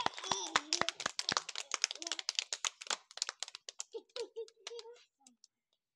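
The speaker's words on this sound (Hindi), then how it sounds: "ताली बजाओ जोर से" Children clap their hands in a quick, close run of sharp claps, then trail into scattered claps as a child and an adult talk.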